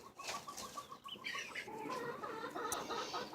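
A broody hen sitting on a clutch of eggs gives a run of soft, close clucks and low throaty murmurs, with faint rustling in the background.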